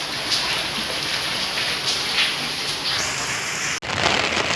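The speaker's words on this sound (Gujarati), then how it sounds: "જો કેવો વરસાદ આવે" Heavy rain pours steadily in a loud, broadband roar with spattering drops, uninterrupted except for a brief dropout near the end; no voices.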